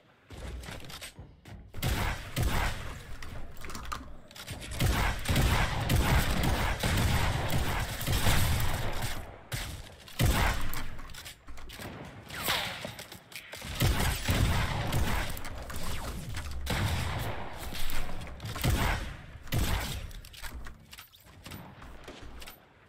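Gunfire in a video game, rapid bursts of shots and mechanical clacks, loud and close, coming in uneven waves with short pauses between.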